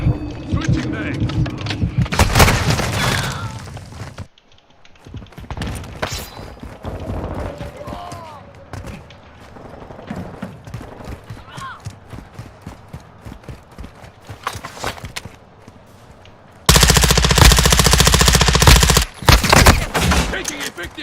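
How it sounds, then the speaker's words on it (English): Video game gunfire crackles in rapid bursts and sharp single shots, loud and close, with quieter gaps between the volleys and a voice calling out over the action. "Taking effective fire."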